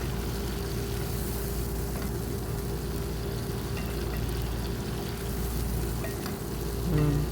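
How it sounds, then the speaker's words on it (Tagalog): Shrimp and broccoli stir-frying in a pan, a steady low sizzle and crackle with faint stirring scrapes throughout and no talking. "At yan, i-stir fry lang natin siya hanggang maluto yung ating shrimps."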